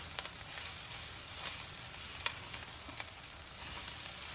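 Drumstick leaves frying in a pan with salt and chili, giving a steady close sizzle with soft scraping stirs throughout.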